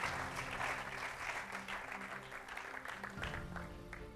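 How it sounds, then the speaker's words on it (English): Sustained applause from an audience at the semi-final of a state quiz competition in Ogun State, a dense, steady patter of many hands clapping throughout, with a faint tonal hum underneath. "I wanted to give yourself a round of applause for being part of this."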